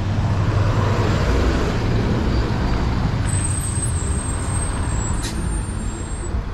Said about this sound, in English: I'm just going to stop here and let this truck do his thing.